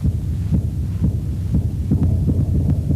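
A dancer's heartbeat picked up by a small worn transmitter and amplified as a dance accompaniment: loud, booming, steady thumping pulses over a continuous low hum.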